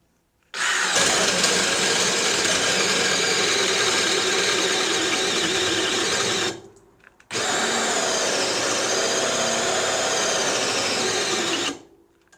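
A DeWalt DCD778 hammer drill runs at speed 2 with a loud, steady high-pitched whine, cutting out briefly near the middle before spinning up again for a second long burst.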